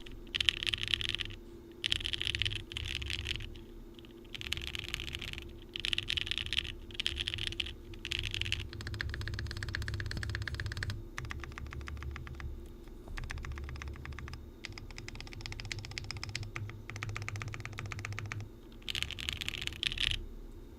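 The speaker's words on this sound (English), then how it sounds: "I'll just open up a new window for our typing test." A Frog Mini mechanical keyboard in Harbour Grey is typed on in quick, close bursts of clacky keystrokes with brief pauses between runs, and no one speaks.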